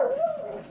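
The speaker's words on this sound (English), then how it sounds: "Actually, that more yowly bark is Mimi's" A dog gives a single drawn-out, yowly bark that bends into a howl-like whine, close and fairly loud, with no other sound around it.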